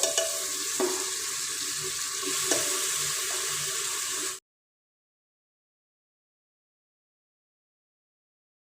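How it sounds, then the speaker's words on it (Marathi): Masala fries and sizzles in hot oil for a mutton curry, a steady close crackle with occasional stirring for about four seconds before it cuts to silence. "जरा तेल फुटस्तवर मसाला भाजून घ्यायचा"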